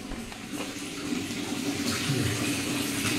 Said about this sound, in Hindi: तो ये बढ़िया गर्म पानी आ रहा है